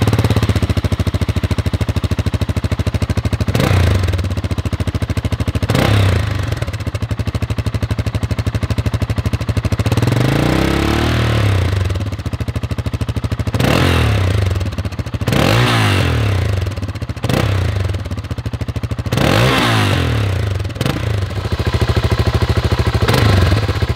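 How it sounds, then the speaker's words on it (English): A BMW G650 Xchallenge 650cc single-cylinder motorcycle fitted with a Spanish IXIL slip-on exhaust, baffle in, idles with a loud, steady thumping beat close by, broken by several sharp throttle blips that rev up and fall back. "This is the sound of the IXIL exhaust, the Spanish IXIL exhaust."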